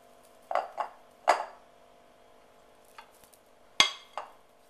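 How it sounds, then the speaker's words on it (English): A spoon scooping breakfast cup mixture into a metal muffin tin: several distinct clinks and scrapes in quick pairs, separated by quiet pauses, close by. "So now I'm going to divide this between my muffin wells here,"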